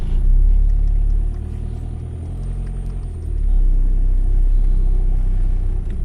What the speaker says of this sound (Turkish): Şimdi aracımızla bir yol testi yapalım.